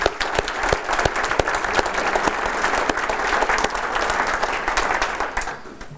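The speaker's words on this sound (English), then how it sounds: "just a quick round of applause" A crowd claps in sustained applause for several seconds, dense and steady, tapering slightly at the end.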